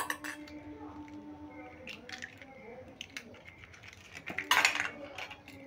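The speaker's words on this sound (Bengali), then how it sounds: "ডিমটা একটু ফেটিয়ে নিচ্ছি।" An egg is beaten with a utensil in a bowl in a home kitchen, giving scattered light clinks and taps that grow to a brief busier burst near the end, with a voice talking quietly in the background.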